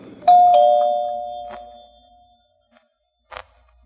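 A doorbell chimes once in an old-time radio drama, its tone ringing out and slowly fading, followed by a brief knock-like thud after a pause.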